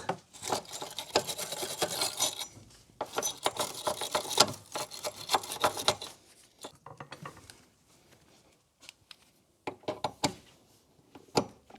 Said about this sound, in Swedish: Jag kan börja med att rengöra den här bulten lite.